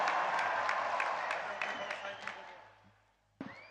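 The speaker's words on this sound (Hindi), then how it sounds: "आइए तालियों के साथ इस भव्य प्रस्तुति का स्वागत करें" A large crowd applauds to welcome a world-record Bagurumba folk dance by ten thousand Bodo dancers, a busy clapping that fades to near quiet before a voice cuts in at the end.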